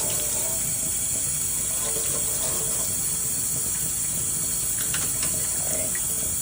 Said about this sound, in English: Pull the water down a little bit here. So I can wash my hands.